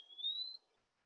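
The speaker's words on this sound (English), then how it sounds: "is the eastern Wood-Pewee, a bird named for his pewee call." An eastern wood-pewee, a flycatcher, gives a single clear rising whistled call lasting about half a second, fairly faint against quiet summer woodland near a marsh.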